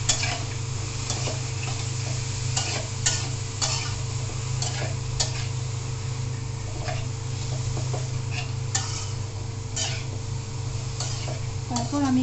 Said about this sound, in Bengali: কাঁকরোল দেওয়ার পর ভালো মতো নেড়ে দেবেন সব কাঁকরোল যেন মশলা দিতে